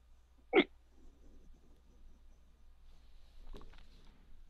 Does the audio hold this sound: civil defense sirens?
no